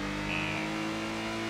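Small-displacement engine of a Suzuki Alto in Assetto Corsa, driven along a mountain pass road past tunnels and bridges, giving a steady, continuous drone with a brief higher whine, no talking.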